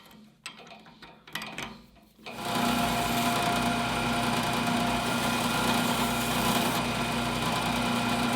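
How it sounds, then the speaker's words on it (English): A small rotary tool with a sanding wheel spins up after a few clicks and handling noises, then runs with a steady, high-pitched whine and grinding buzz close by. "And we'll try a little sanding wheel."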